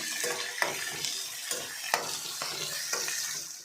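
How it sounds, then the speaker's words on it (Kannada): Chopped onions with curry leaves frying in a pan, a steady close sizzle punctuated by regular spatula scrapes and taps against the pan about every half second. "ಈರುಳ್ಳಿನ ಕಟ್ ಮಾಡಿ ಇಟ್ಕೊಂಡಿದ್ದೆ ಅದನ್ನು ಸೇರಿಸ್ಕೊತಾ ಇದ್ದೀನಿ ಇದೆಲ್ಲ ಸ್ವಲ್ಪ ಫ್ರೈ ಮಾಡ್ಕೊಳ್ಳೋಣ"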